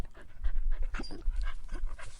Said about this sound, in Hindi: तब वहाँ एक कुत्ता आ गया